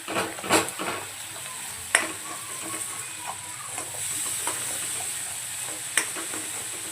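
A paste of coconut and onion sautés in a pan, making a soft, steady sizzle. A few sharp ticks and scrapes come from stirring, quiet and close.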